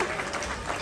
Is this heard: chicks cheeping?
no